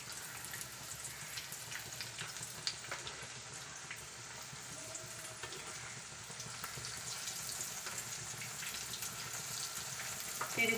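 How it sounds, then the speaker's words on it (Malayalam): Food frying in a pan over a medium-low flame and turned now and then: a steady, soft sizzle with faint crackles runs throughout, with no talking. "മീഡിയത്തിനും ലോയ്ക്കും ഉള്ള ഫ്ലെയിമിൽ വെച്ച് വേണം നമുക്കിതൊന്ന് ഫ്രൈ ചെയ്തെടുക്കാനായിട്ട്"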